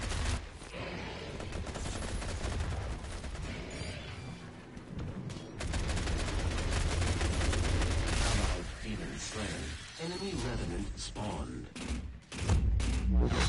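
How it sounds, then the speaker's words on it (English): Rapid gunfire and heavy impacts from a sniper rifle and other weapons in the video game Doom, dense and loud almost throughout, with brief dips and a voice talking under the barrage. "Ah, sniper rifle."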